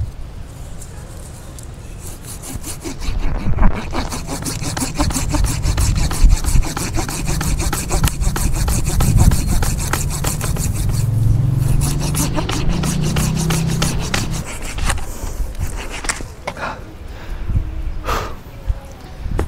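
Hand saw cutting through a thick Anting Putri bonsai branch, a close, steady rasping stroke repeated back and forth in an uneven rhythm, with a few brief pauses between strokes.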